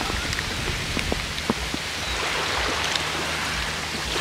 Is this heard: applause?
no